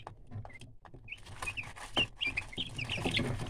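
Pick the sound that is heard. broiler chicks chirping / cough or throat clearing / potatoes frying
broiler chicks chirping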